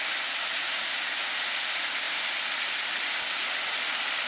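A natural creek rushing steadily past, a dense, loud hiss of flowing water heard close and unbroken, with no voices.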